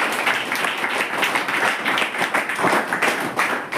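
An audience at a gathering gives a loud, sustained round of applause with dense, continuous clapping throughout.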